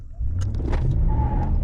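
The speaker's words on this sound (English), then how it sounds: "I'm gonna crank it all the way up to max track mode, and do a quick little acceleration here." A 2023 Ram 1500 pickup with the 5.7L V8 accelerates hard in max track mode, its engine note rising quickly into a loud, close roar with a faint whine, and no voices.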